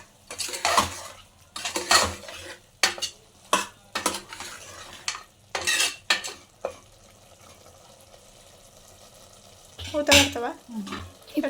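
Mutton curry being stirred in a pot, with a series of short scraping and clinking strokes of a spoon against the pot, then a quiet pause before a final burst of stirring.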